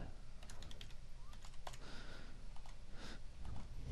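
Quick, light clicks of a computer keyboard come in short bursts as a sensor name is typed, close and fairly quiet.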